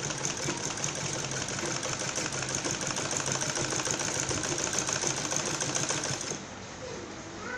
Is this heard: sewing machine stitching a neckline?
yes